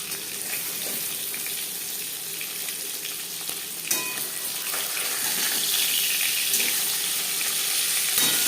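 Pieces of katla fish fry in hot oil in a pan, giving a steady crackling sizzle that runs throughout, close and fairly loud, swelling slightly toward the end with a brief clatter partway through and no talking.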